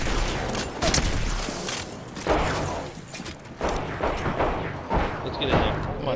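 Video game gunfire in a chaotic end-of-match fight, heard as dense, continuous bursts of shots and impacts throughout, with players talking over the noise.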